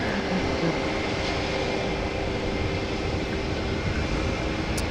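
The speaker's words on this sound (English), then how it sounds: "This is Lufthansa flight 989 to Frankfurt, A321." Lufthansa Airbus A321 jet engines at Amsterdam Schiphol, on a flight to Frankfurt, produce a steady, loud broadband roar with a faint tonal hum, holding level over about five seconds without voices.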